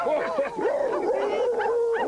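A Muppet dog puppet voice gives a string of yips, whimpers and howl-like cries that rise and fall, loud and close, a voice imitating a dog.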